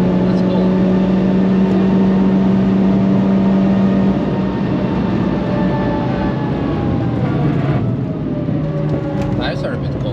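A 330hp VW Golf 5 GTI drives the Nürburgring with a steady, loud engine drone and road roar throughout, its pitch shifting as it pulls and eases, while people talk inside the car over it.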